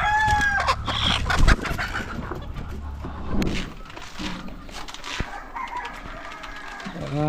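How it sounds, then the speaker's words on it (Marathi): Broody country hens in a poultry farm, a loud close chorus of clucks and squawks with high-pitched cackles and a rooster-like call early on, busy and overlapping throughout. "हा सगळा खुडूक सेक्शन आहे आणि या खुडूक कोंबड्या आहेत बघा सगळ्या"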